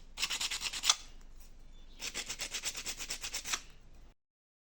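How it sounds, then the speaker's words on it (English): Rough sandpaper scrubs a shoe heel surface in two bursts of quick back-and-forth strokes, close and dry, about a dozen rasping passes in the second run before it stops. "use your rough sandpaper to roughen the surfaces"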